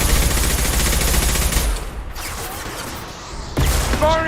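Impact shot weapon firing in Mass Effect Legendary Edition 2, a dense burst of loud rapid reports that stops partway, leaving a lower rumble before another loud blast near the end.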